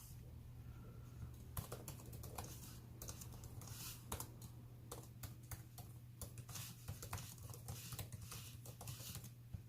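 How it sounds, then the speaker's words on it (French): Typing on a laptop keyboard, quick irregular clicks and clacks in uneven bursts, close and fairly quiet over a faint steady hum. "C'est pas vraiment ce qu'on pourrait qualifier d'un clavier silencieux."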